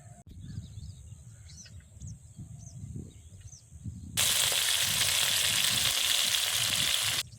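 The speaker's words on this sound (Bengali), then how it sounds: "সব মাছ ভাজা হয়ে গেছে," Hilsa fish frying in hot oil: a low crackle at first with faint bird chirps in the background, then a sudden steady loud sizzle that continues to the end, no talk.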